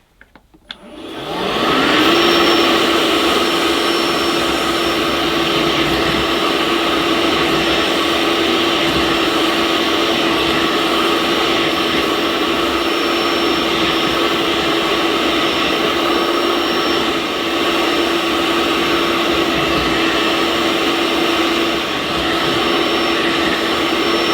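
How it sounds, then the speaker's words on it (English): A Vax Onepwr SpotlessGo cordless spot washer sucking up a stain on fabric: the motor starts with a rising whine and then holds a loud, steady drone with a thin high tone on top, running alone throughout. "Now I'll turn the cleaner on without applying more solution and try and suction up the stain."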